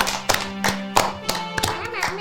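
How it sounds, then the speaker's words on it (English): A small group gives a round of applause, a handful of sharp, separate claps spaced irregularly over a voice and a low steady tone. "Let's give him a nice big round of applause"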